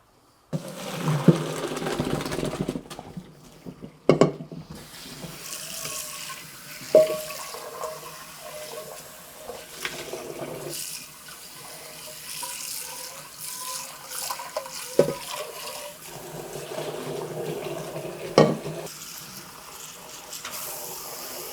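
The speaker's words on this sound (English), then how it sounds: "I have to drain the water right now." Water pours and splashes from a pot of cooked rice into a sink as it is drained, running in uneven gushes with occasional clunks of the pot.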